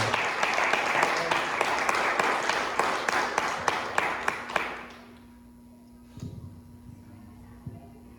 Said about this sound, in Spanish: Denle un aplauso a Cristo, por favor.